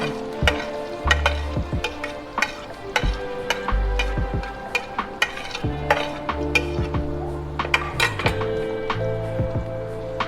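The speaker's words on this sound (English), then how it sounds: "And we will fry them until it turns brown." Chopped onion frying in a pan, a close crackling sizzle broken by repeated stirring scrapes and sharp clinks of a utensil against the pan, uneven in rhythm, with no voices.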